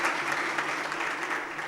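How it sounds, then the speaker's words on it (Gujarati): Audience applause at a Thursday talk program in Surat, a brief, even burst of many people clapping together at close range with no breaks. "એના માટે જેટલી તાળીઓ પાડી થયો"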